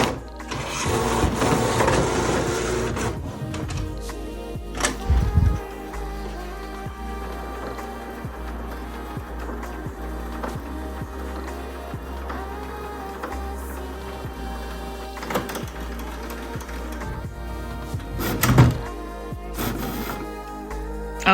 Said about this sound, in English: the printer is pretty loud